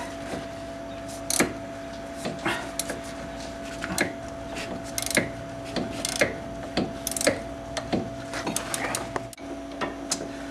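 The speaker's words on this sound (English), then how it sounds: "then a ratchet wrench will make this job a lot easier." A ratchet wrench loosens the nut on a sway bar link of a 2001 Dodge Caravan Sport, giving a series of sharp, irregular clicks and ratcheting bursts at close range over a steady background hum.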